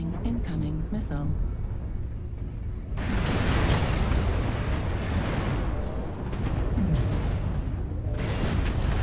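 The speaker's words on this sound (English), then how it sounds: "Warning, incoming missile." A missile explosion in a military video game, with a loud, sustained rumbling blast and crackling debris over a dense battle din, the roar swelling midway and staying heavy to the end.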